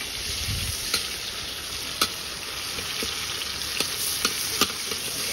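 Onion frying in oil with cumin in a pan over a wood fire for ghugni, a loud, steady close sizzle with occasional sharp clicks of a spoon stirring against the pan.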